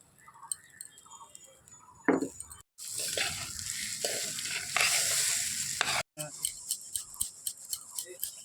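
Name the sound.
Gobindobhog rice being added and stirred in pan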